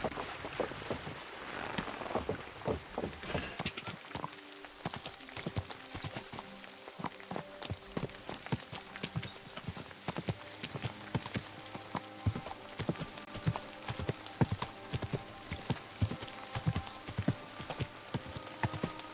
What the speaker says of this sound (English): I think I could probably ride my horse to this,